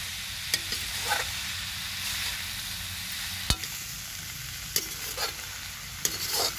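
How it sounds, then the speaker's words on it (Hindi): Turmeric roasting in a pan at a village cooking setup, a steady soft sizzle under occasional sharp scrapes and taps of a spoon against the pan, close and alone without voices. "अब हल्दी को भी अच्छे से भून लेते हैं।"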